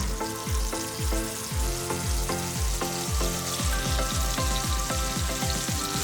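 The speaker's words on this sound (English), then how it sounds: "you're just waiting for that chicken to sizzle away and get a little bit of color" Chicken pieces sizzle steadily in hot oil, a continuous crackling fry with frequent small pops and no voices.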